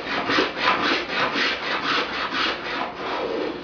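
A Veritas spokeshave shaves walnut edge banding flush, giving a close, steady series of raspy wooden strokes in an even back-and-forth rhythm with no talking.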